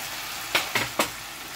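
Steady sizzling of bell peppers frying in a pan, with three quick stirring scrapes partway through.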